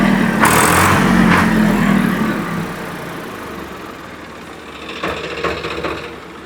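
A tractor engine idles steadily and close, a continuous low rumble with some knocking and clattering bursts on top.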